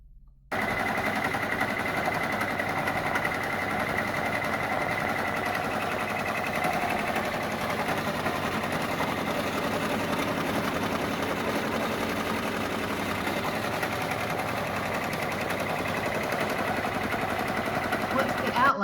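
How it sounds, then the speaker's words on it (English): A machine embroidery hoop mounted on a free arm embroidery machine stitches the outline of a key fob, giving a steady, continuous mechanical whir and rapid needle rattle that runs unbroken throughout. "We'll mount the hoop on the machine and start to stitch the outline."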